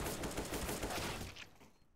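Rapid gunfire from a competitive round-based shooter game, a dense continuous burst of shots that fades out toward the end.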